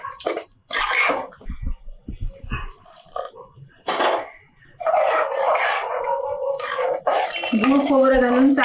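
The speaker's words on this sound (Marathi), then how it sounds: "चांगलं मिक्स करूया म्हणजे गुळ आतमध्ये चांगलं मिक्स होऊन जाईल" Jaggery is stirred into kheer in a pot, with scraping and clinking of a spoon against the metal in uneven bursts, close by, mixed with someone talking.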